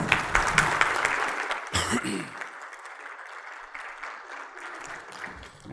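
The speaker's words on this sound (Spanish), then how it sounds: "Recibamos con un fuerte aplauso al expositor Eduardo Manuel Enrique Gutiérrez." Audience applause at an accountants' day conference swells loudly, then settles into a steady, softer clapping that continues for several seconds, with a voice briefly heard over it.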